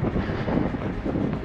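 Wind gusts steadily across the microphone on the Yenisei riverbank, a loud, continuous rumbling roar.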